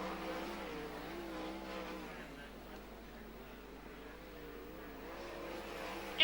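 Speedway race cars circle the Premier Speedway oval at night, a steady distant engine roar under a public-address announcer, with one loud burst at the very end.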